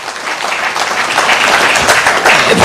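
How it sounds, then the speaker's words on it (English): Sustained audience applause at an economic symposium hall at Safari Park Hotel, dense and steady clapping from a large crowd, loud and continuous throughout with faint voices mixed in. "Another round of applause for Mheshimiwa."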